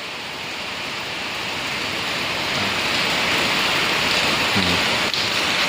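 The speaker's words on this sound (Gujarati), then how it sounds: "હવે વરસાદ પડે છે" Heavy rain pours down in a steady, dense hiss that swells slightly louder partway through, in a village near the Tapi river.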